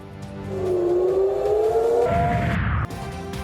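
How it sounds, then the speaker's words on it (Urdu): Air raid sirens wail across Tel Aviv as Hezbollah missiles are fired at Israel, a single rising, sustained tone that climbs in pitch and holds before fading into a rumbling, noisy backdrop, with no one talking. "تل ابیب میں سائرن بج اٹھے"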